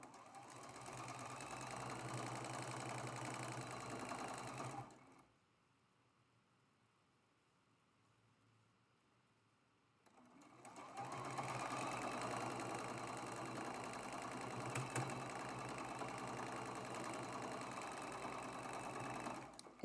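A sewing machine stitches the last seam of a quilt block in two steady, close bursts of rapid whirring, separated by a few seconds of near silence.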